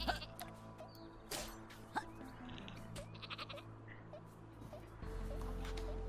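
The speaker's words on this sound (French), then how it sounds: "Pourquoi j'entends un mouton?" Sheep bleating in the artillery game Worms W.M.D, several short bleats scattered over a backdrop of steady game music and ambience, with the music growing louder toward the end.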